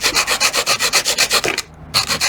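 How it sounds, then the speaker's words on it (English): Sandpaper scrubs back and forth over the top of a wooden piece in quick, even, close-up strokes, stopping briefly before starting again, with no one talking. "And then just wants us to sand the top"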